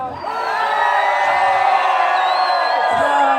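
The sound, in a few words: crowd shouting loudly at Seto midsummer bonfire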